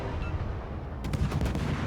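Naval guns fire in the World of Warships video game aboard the destroyer Mogador, a series of booming salvos over constant rumbling game noise in the second half, with no talk.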